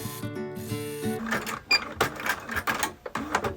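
Sewing machine stitching a quarter-inch seam along a quilt heart block for a table topper, a short whirring run of needle strokes with uneven mechanical clatter and pauses.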